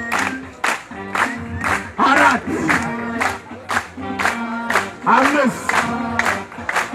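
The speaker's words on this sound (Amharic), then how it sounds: "አሰልፏቸው፣ አጨብጭቡላቸው።" A crowd at a gospel gathering in a prison claps in a steady rhythm with loud voices cheering, while someone counts aloud over the applause.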